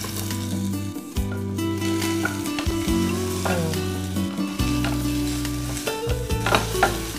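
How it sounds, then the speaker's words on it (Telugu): Onions fry in a pan until light pink for a millet soup, sizzling steadily and close by, with repeated scraping and stirring strokes and no talk. "ఉల్లిపాయ రంగు మారి లైట్ పింక్ కలర్ వచ్చేంత వరకు వేయించుకోవాలి."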